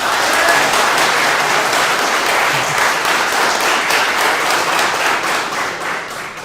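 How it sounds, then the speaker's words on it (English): A crowd in a sports pub breaks into dense, sustained applause, loud and continuous for several seconds before tapering slightly at the end. "By a round of applause, if this person is the best,"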